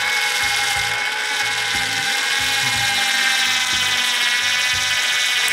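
A Makita cordless caulking gun motor whirs steadily while pressing a sealant tube, with a bright continuous mechanical whine and a rhythmic low ratcheting pulse underneath, close and loud, with no talking.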